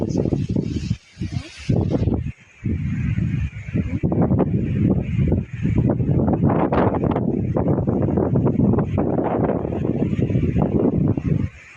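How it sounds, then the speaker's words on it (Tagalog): Strong wind buffets the microphone in a continuous roar with gusty swells on Banton island, while a person talks over it throughout. "grabe ang lakas ng hangin. Malakas ang hangin, oh."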